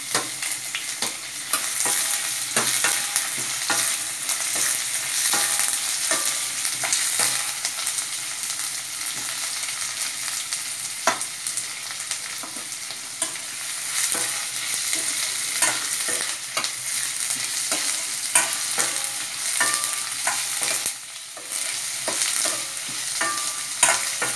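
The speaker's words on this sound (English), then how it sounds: "Fry until the onions turn golden brown." Three onions frying on a high flame for Hyderabadi-style mutton curry, a loud continuous sizzle with frequent spoon scrapes and stirring clatter, close up and without any talking.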